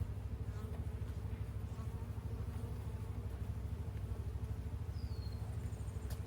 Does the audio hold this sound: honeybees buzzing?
yes